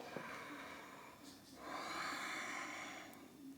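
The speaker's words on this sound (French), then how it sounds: "Et inspirez." A slow inhalation during Ashtanga yoga practice, a soft, faint, drawn-out breath heard close up in a quiet room.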